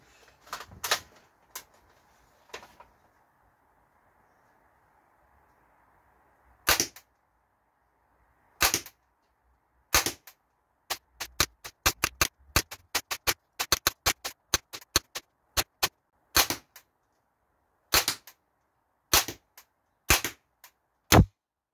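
Umarex HK416 A5 air rifle firing at a target, sharp isolated cracks that start sparse and then come in a quick run of many shots before spacing out again, loud and close against near silence.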